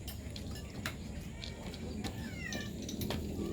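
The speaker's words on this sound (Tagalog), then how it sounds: "Fiesta ang pusa." A cat meowing while eating from a shared bowl of canned food, giving a few faint rising mews over soft background noise.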